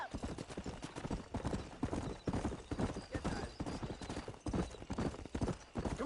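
A horse gallops in the video game Red Dead Redemption, with loud, rapid, rhythmic hoofbeats that drive on continuously, with a brief pause partway through, and no speech.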